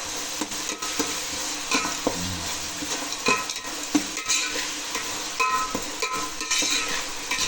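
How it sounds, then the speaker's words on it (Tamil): Onions and rock salt sautéing in a pan for crab gravy, with a moderate frying sizzle broken by irregular scrapes and clinks of a spoon stirring against the metal. "வெங்காயத்தை நல்லா வதக்க நல்ல டேஸ்ட் வரும்"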